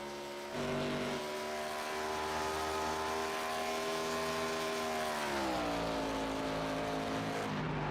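A race car engine drones steadily around the 1.5-mile Homestead oval in an ARCA Cup series racing video game. The tone is loud and sustained, with a slight pitch drop partway through as the car settles into the turns.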